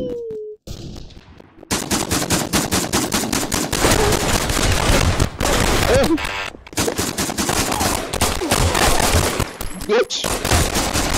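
Rapid gunfire rattles through the Pavlov VR shooter game, loud bursts of automatic shots in fast, sharp cracks that stop briefly and resume several times.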